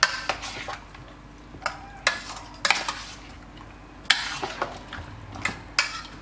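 A spoon stirring green chicken curry in a pot, heard as a series of sharp metallic scrapes and clinks against the pan at uneven intervals over a soft background, no voices.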